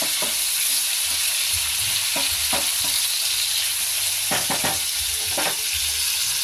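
Flat beans (shim) frying with salt and turmeric in a pan, a steady close sizzle running throughout with a few soft scrapes of stirring scattered across it.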